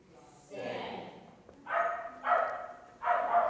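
Several dogs bark in short bursts at an obedience training graduation, sharp yips and barks coming in three clusters at moderate distance, with voices faintly in the background.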